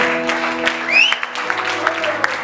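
A church congregation claps and acclaims the Lord in uneven, sparse handclaps over sustained voices and pitched tones, with one rising exclamation standing out mid-way.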